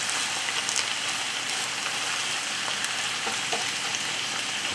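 Zucchini sautéing in a pan for a home-style family recipe gives off a steady, soft sizzle with faint crackles throughout, close by and with no talking.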